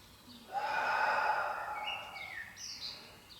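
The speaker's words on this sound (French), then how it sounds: "J'inspire." A slow, audible breath drawn in during a Pilates exercise, a single long airy inhalation up close that swells and then tapers off, with a few faint higher sounds trailing after it.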